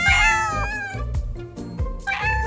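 Cats meowing in a tree during a children's book read-aloud, several overlapping harmonic meows that are loud and close, following one another without pause.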